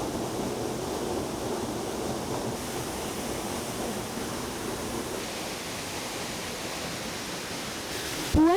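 Steady broadband rushing of a waterfall at a Rumah Pohon and Air Terjun nature site in Desa Tabanggeli, Indonesia, a constant even roar with no talk, ending in a brief louder burst.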